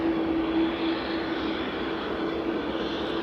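EasyJet airliner with a croaky-sounding engine note, heard over at Manchester Airport: a steady, moderately distant jet roar holding evenly throughout with a faint tonal hum.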